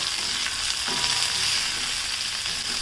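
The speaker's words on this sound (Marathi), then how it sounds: "कोथंबीर टाकून घ्यायची तिला चांगलं परतून घ्यायचं" Coriander sizzling and being stirred in a hot pan while cooking a spicy varai bhaat (barnyard millet) fasting dish, a steady loud frying hiss with occasional scraping of the spatula, no voices.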